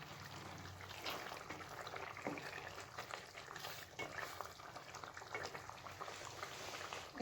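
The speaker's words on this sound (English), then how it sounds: "So the chicken is being cooked." Chicken ghee roast cooks in a pan with a steady, soft bubbling and sizzling that runs throughout with no voices.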